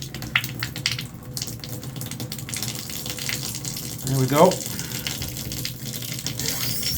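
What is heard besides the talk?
bathtub tap running water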